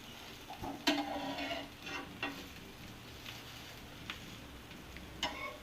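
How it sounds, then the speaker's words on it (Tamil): Bread mixed into beaten egg in a frying pan for a bread omelette: soft sizzling under scattered scraping and tapping of a utensil against the pan, close but fairly quiet. "இந்த பிரெட்டை இதோட இப்படி மிக்ஸ் பண்ணி விட்டுக்கோங்க."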